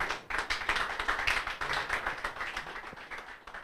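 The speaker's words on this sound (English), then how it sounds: "Please clap for her." A small audience claps in quick uneven bursts at a moot court competition award ceremony, close and moderately loud, tapering off toward the end.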